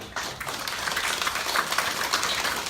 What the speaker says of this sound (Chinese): 咱直接甲因鼓掌哦，鼓励吼